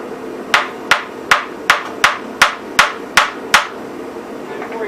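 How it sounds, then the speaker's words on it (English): Eight sharp metallic hammer strikes on through bolts of a 1950 Gravely Model L tractor land at a steady, even pace, each ringing briefly before the next blow, close and loud over a quiet background. "I'm hammering on the through bolts"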